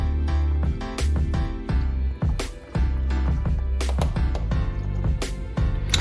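Drained macaroni noodles poured from a pot into a pan, a series of soft clattering slides and sharp scraping knocks spread across several seconds, close by.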